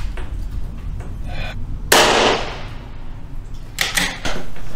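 A single sharp gunshot from a scoped rifle, one loud crack with a quick decaying tail over steady outdoor background noise.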